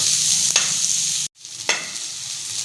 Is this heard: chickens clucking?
no